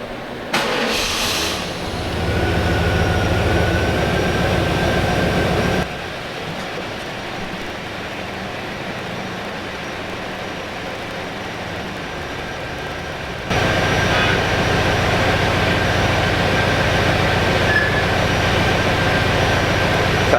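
A Pontiac Firebird Trans Am engine cranks briefly, catches and settles into a steady idle, then later rises to a louder, higher idle that holds to the end, heard close with no talk.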